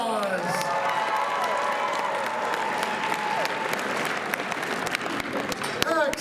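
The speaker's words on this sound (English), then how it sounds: "Give them a round of applause." An audience at a cosplay masquerade gives sustained applause, a dense wash of clapping with scattered cheers and whoops that carries on throughout.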